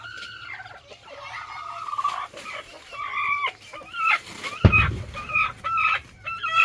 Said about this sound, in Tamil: இப்போ இங்கே பாரு, 2 கோழி இருக்குது.